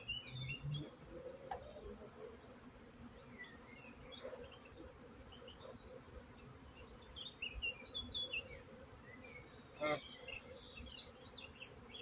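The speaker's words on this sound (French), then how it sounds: "il y a toutes les butineuses qui sont sorties aujourd'hui" Honeybee foragers buzz steadily around a hive during a dogwood nectar flow, a soft continuous drone beneath scattered bird chirps and a few faint knocks.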